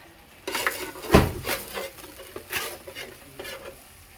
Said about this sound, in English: if I put the sausage on that hot tray, it'll finish cooking while I make the gravy